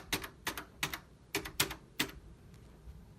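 Keys clack on the keyboard of an old Brother word processor in a quick, uneven burst of about six loud, close strokes, then the room goes quiet.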